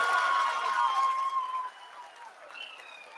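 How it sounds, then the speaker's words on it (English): People applaud during the Chandrayaan 3 lunar landing broadcast, a dense burst of clapping that fades after a second and a half, leaving quieter room noise and a faint tone. "People are applauding."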